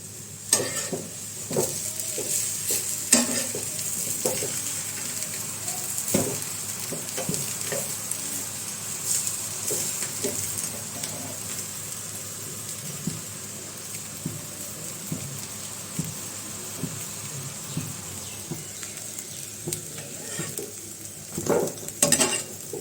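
Breakfast food fries in a pan in a home kitchen on a winter morning, a continuous low sizzle broken by repeated scraping and clinking of a utensil stirring and turning the food.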